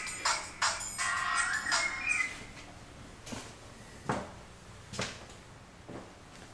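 Drawers in a walk-in closet slide open and shut, giving a quick run of soft knocks followed by several sparse, separate clunks, all quiet in a still room.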